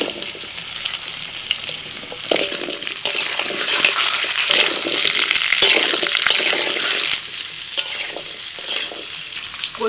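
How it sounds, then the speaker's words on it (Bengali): Chunks of taro and potato fry in mustard oil in a wok, a loud, continuous close-up sizzle with rustling, scraping stirring that swells and eases over ten seconds, without any talk. "দিয়ে দিচ্ছি কচু আর আলু।"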